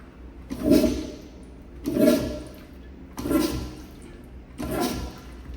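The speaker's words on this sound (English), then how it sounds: "let's go ahead and try and flush the toilet and see what happens" A commercial toilet with a Sloan flush valve flushes incompletely, making four short, evenly spaced surges of rushing water about a second apart, close by with no talking.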